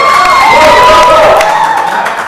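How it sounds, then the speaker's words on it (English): Audience at a live talk-show taping cheers and applauds for a welcomed guest, a loud, dense crowd roar with whoops and shouts that fades slightly toward the end. "Let's give Rodney a round of applause."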